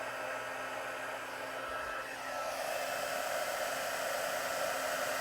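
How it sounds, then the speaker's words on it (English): A handheld heat tool blows hot air onto embossing powder, a steady, loud whooshing hiss that runs continuously and brightens and strengthens partway through, with no talking. "grab my heat tool. And I'm just going to apply heat to this powder."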